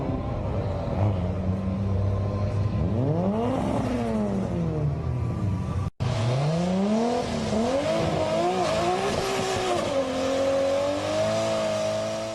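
Old-school Japanese cars drag racing, a two-wheel-drive Nissan among them, on sticky Nitto 555R tyres: loud engines rev and climb steadily through gears, a brief cut midway, then more roaring acceleration with rising, sweeping engine pitch.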